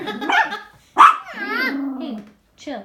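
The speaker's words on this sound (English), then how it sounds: "Can't keep barking." A small dog barking and growling in a few close, loud bursts, a sharp yelp followed by a longer drawn-out growling bark, with short gaps of silence between.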